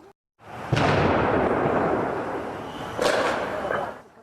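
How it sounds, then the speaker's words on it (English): Two loud, sharp bangs set off by police a few seconds apart, each followed by a lingering rumble that slowly fades. "Those just a couple of the loud bangs set off by police."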